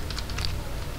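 Keystrokes on a computer keyboard while entering Oracle PL/SQL code, a short cluster of light clicks in the first half over a steady low background hum.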